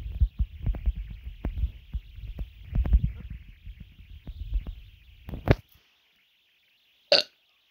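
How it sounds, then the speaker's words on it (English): Feeble, low burps from a player in a blocky hide-and-seek game, rumbling in a long stretch of near, rough bursts, then a sharp click and one short brief sound after a pause. "These are feeble burps."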